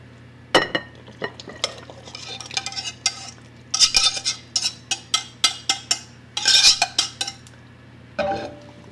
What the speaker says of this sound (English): And you want to just whisk this in until it's barely put in.